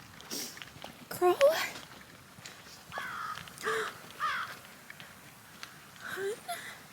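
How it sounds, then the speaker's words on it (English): A crow caws several times at State Park wetlands and prairie, the calls coming from somewhere up high, sounding moderately distant and spaced irregularly, while a person speaks softly nearby between the calls. "Is that a crow? I love crows."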